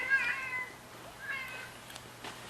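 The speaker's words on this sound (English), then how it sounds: "I hear a cat" A house cat meows indoors, two or three drawn-out cries spaced across a couple of seconds, fairly close and clear over a quiet room with a low hum.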